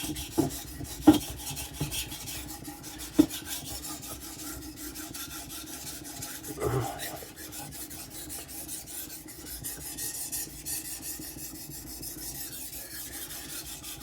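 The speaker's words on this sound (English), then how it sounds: "Now relax when sharpening, don't be all rigid." Steady raspy scraping of a custom knife blade being sharpened, a continuous rubbing texture punctuated by a few sharper clicks and one brief louder swell midway, heard up close with no talking.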